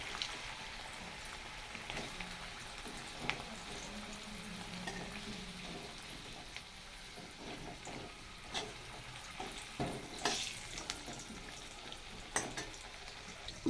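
Small unpeeled potatoes frying in oil give a steady, low sizzle with scattered crackles and a few sharper pops, continuous and fairly quiet, with no voices.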